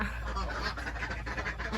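Ducks in a coop quack and chatter nearby in a busy, overlapping cluster, with soft rustling underneath.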